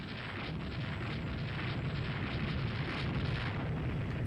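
Naval gunfire from the warship Benito rolls out in a continuous heavy, booming roar of cannon blasts in a sea battle game, dense and loud with no pauses.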